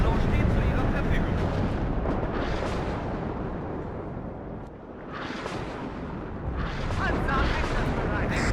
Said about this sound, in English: We're just going to blast that building to pieces